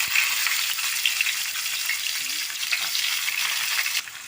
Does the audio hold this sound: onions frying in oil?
yes